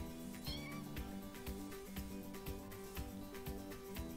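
A cat meows in the Toca Life World game, with a series of short, clear meows over steady background music and no talking.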